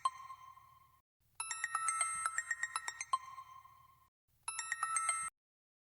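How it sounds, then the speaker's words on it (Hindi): A telephone rings in bursts of bright, trilling electronic tones, pausing between rings, fairly quiet with a faint low hum beneath. "इस वक्त किसका फोन है?"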